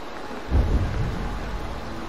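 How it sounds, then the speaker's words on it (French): Rain and thunder in Assassin's Creed Valhalla, a low thunder rumble swelling briefly over a steady hiss of rainfall, fairly quiet, with no speech. "Ah, toujours il pleut, hein."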